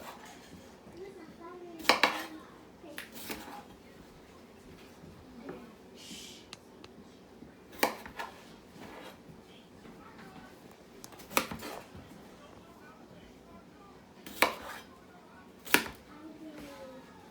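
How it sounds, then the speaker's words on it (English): A knife cuts vegetables into quartered wedges for beef stew, giving sparse sharp taps on a cutting board with clinks of utensils and quieter handling between chops. "So cutting them in fours, you're cutting some pretty precise wedges, as you can see."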